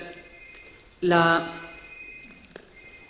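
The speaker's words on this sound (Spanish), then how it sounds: "el teléfono, perdonad" A telephone bell rings once in a short burst during an indoor talk, followed by quiet room noise with faint movement.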